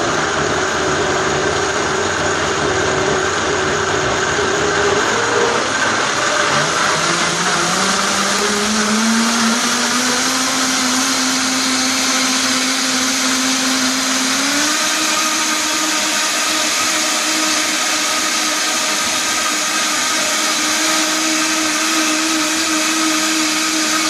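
A high-powered blender whirs loudly and continuously through a vegan fudgesicle mixture, its motor pitch shifting and climbing in steps as the blend thickens, with no talking over it.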